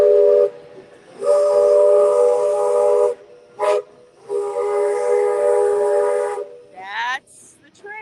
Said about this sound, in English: That's the train. Walt Disney World Railroad, there it goes.